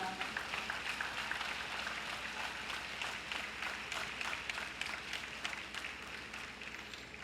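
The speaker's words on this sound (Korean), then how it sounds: "다시 한번 응원의 박수 부탁드립니다" Large crowd at a national teachers' rally in Korea gives steady applause of support, a dense, continuous wash of many hands clapping at even loudness throughout, with no talk over it.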